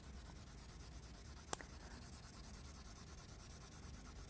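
A Derwent colour soft pencil shades steadily across paper, giving a quiet, continuous rhythmic scratching close to the microphone, broken once by a sharp tap.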